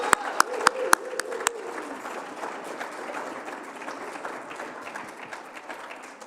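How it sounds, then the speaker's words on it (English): A congregation in a church sanctuary applauding at a worship service, a few sharp opening claps swelling into steady, moderate applause that slowly thins out, with a voice speaking early on. "Can we please have one more round of applause for Igor, Michael, Elisa, and Ron?"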